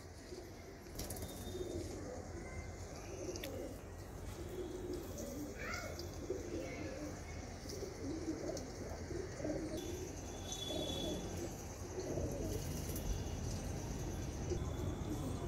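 Soft, low cooing from Madrasi pigeons repeats faintly against a steady background hum, with a few light chirps and rustles.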